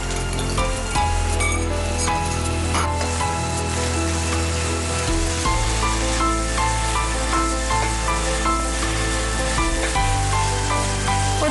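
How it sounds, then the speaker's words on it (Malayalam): Spice paste with turmeric, shallots and curry leaves sautéing in a pan for dried shrimp thoran, a steady dense sizzle and frying hiss that carries on close and fairly loud throughout with no talk. "ഒരല്പം ഒരു 1-2 മിനിറ്റ് ഇങ്ങനെ വഴറ്റുക"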